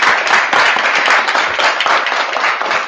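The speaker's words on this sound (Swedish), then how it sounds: "jag tycker att vi ger Britt en stor applåd" An audience claps for a moderator at the end of a Wikipedia Day 2022 afternoon event, a dense, even burst of applause lasting a few seconds.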